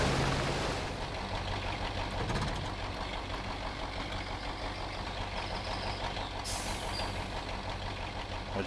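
A truck engine drones at a steady low idle in Spintires MudRunner, a continuous rumbling hum with a faint knock, close and alone throughout.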